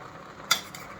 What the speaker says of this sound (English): I try to give it a stir so that these guys will make their way to the bottom part of the pot.